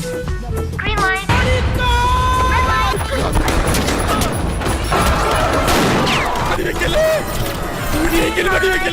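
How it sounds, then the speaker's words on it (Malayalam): Gunfire sound effects in a Squid Game comedy spoof: dense bursts of shots, crashes and booms under loud, excited voices. "വെക്കടാ വെടി, വെക്കടാ വെടി"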